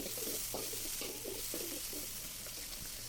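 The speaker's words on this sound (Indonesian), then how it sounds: "Tinggal kalian masak sampai mendidih seperti ini" Tempeh simmering in a pan with palm sugar and water for a rice box meal gives a steady low sizzle and bubbling with faint stirring scrapes throughout, close and continuous, with no talking.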